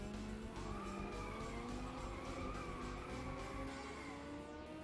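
Video game car skidding and drifting with sustained tire squeal sliding up and down in pitch over a steady engine roar, continuous and fairly quiet, with no speech.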